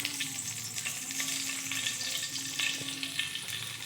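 Dried red chillies and a bay leaf frying in hot oil, a steady crackling sizzle heard up close with a few faint tonal clinks, no voices.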